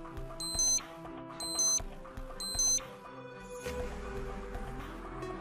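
Three short bursts of high electronic beeping from a military-style wristwatch's barometric pressure alarm, which sounds at significant pressure changes, evenly spaced, over a quiet background hum.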